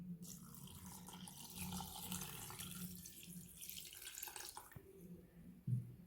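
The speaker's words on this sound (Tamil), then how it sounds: "இப்போ நம்ம எடுத்து வச்சுருக்கிற 2 டம்ளர் பாலை இதோடு சேர்த்துக்கலாம்." Milk pours into a pot of garlic rice porridge in a steady splashing stream that lasts several seconds, close by and soft, ending with a small clunk.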